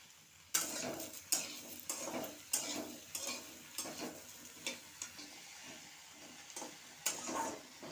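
Salted bean paste being stirred in a pan gives close, repeated scraping strokes with soft clinks of the utensil against the pan, in a steady uneven rhythm, with no voices.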